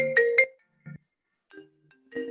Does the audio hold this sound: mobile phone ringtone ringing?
yes